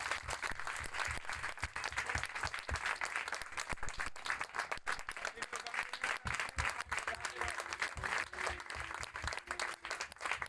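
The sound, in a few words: wedding guests applauding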